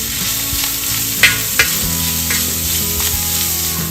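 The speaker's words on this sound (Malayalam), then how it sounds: "ഇഞ്ചി ചതച്ചത് ഇട്ടൊന്ന് നമുക്ക് നല്ലോണം മൂപ്പിച്ചെടുക്കാം." Crushed garlic and ginger fry in oil in a traditional uruli pan for a beef fry, making a strong continuous sizzle with a few sharp pops and a low background hum, and no one speaking.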